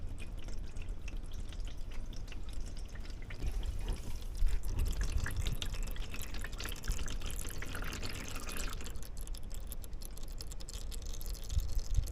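Engine oil draining from the sump of a 2014 Mitsubishi Outlander diesel with a 4N14 engine, a continuous thin trickling stream steady for the whole stretch with no voices.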